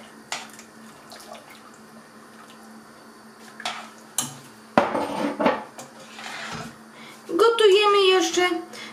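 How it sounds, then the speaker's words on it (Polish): Metal utensils clink and scrape against a pot of bean soup in bursts, with a splash of liquid being poured in and stirred, and a voice speaking briefly near the end. "I wlewamy i mieszamy."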